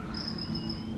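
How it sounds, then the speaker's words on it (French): Crickets chirp in a steady, thin high trill, close and constant over a low outdoor rumble, with no voices. "ces petits grillons là qui chantent et qui m'agacent."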